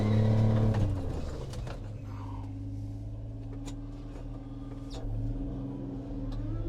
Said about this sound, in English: First gear, we're gonna rev it up.